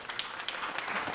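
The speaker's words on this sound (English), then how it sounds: "Can we clap for Njeri?" Audience clapping for Njeri, a speaker at a live Kenyan human rights event on women leading rights movements, a brief, dense burst of applause that fills the space without pause.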